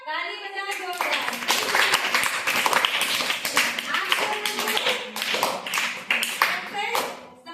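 Clapping in a Hindi grammar lesson about suffixes, sharp hand claps repeating steadily for several seconds after a short spoken phrase, close and fairly loud, with a voice mixed in.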